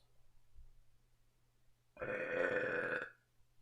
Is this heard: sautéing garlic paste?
no